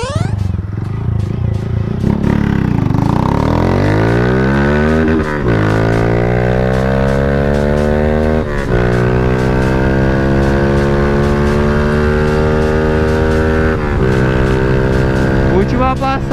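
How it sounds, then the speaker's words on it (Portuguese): Honda Fan 160 motorcycle fitted with a Toro Performance T2 exhaust, baffle removed, running on ethanol, revving hard through repeated rising passes, loud and close with a raspy engine note throughout. "Escapamento Toro Performance, se eu não me engano é T2, próprio da Fan 160."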